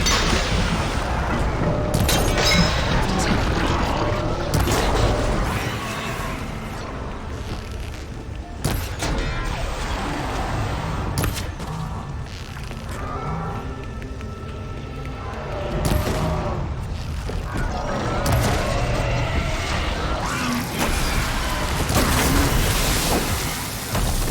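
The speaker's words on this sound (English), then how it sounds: "There's smoke from deeper in the mine. An explosion?" Muffled explosions rumble deep inside a mine in the video game Horizon Forbidden West, heavy booms and crackling bursts rising and falling over a dense, continuous wash of game ambience.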